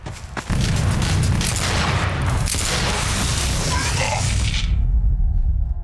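Gunfire in the video game E.Y.E.: Divine Cybermancy, a sharp initial shot followed by a dense, loud barrage of booming blasts and rumble that cuts off near the end.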